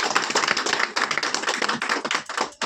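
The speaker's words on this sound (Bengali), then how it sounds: "ও আস্তে আস্তে হাততালি দিচ্ছে" Applause from an audience at a Tiens leaders' gathering in Goghat: dense, continuous clapping of many hands, steady and fairly loud throughout with no voices over it.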